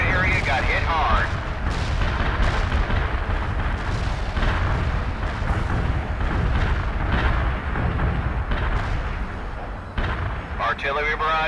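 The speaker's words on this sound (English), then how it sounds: "Artillery barrage fired for effect." An artillery barrage in the strategy game World in Conflict brings a dense, continuous stream of booming explosions and crackling impacts, heavy and loud throughout, with a voice speaking over the bombardment.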